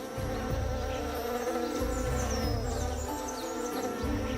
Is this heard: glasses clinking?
no